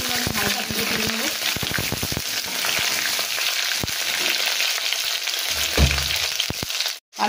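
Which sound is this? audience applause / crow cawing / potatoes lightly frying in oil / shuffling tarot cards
potatoes lightly frying in oil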